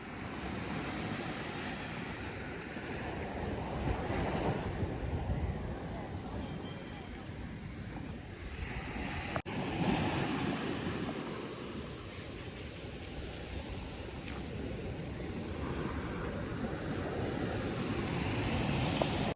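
Gentle sea waves roll in at Chavakkad Beach in Kerala, a continuous broad wash of surf that swells and eases slowly. Voices can be heard faintly over the water.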